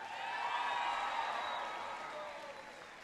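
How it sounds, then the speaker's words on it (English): A large audience at Desert Vista high school applauds and cheers during President Obama's appearance, with sustained dense clapping and scattered whoops that swell and then slowly taper. "Give Jorge a big round of applause for his introduction."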